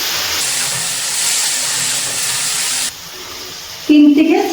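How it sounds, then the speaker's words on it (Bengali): Kul (jujube) berries fry in oil over a low to medium gas flame, giving a loud, steady hiss that drops abruptly partway through, followed by a brief clatter near the end, with no voices. "গ্যাসের ফ্লেমটা লো টু মিডিয়ামে রেখে কুলগুলো তেলের মধ্যে 3 থেকে 4 মিনিট মতো"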